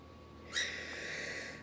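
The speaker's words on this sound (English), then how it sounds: "That's my bird. When I do tutorials in the living room, he likes to scream a lot." A pet bird in a living room lets out a sudden shrill scream, one harsh breathy screech that starts abruptly and trails off over about a second, close and fairly loud against a quiet room.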